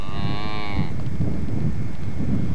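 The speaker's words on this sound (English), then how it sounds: "and they milk the cows in the field." Dairy cows moo in a field where they are milked on Terceira Island in the Azores, a single long, loud moo up front, then steady outdoor rumble and wind noise.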